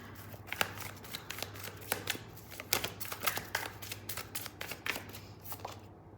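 Tarot cards are shuffled and drawn by hand, giving a close, quiet run of rapid riffling flicks and soft slaps in uneven bursts.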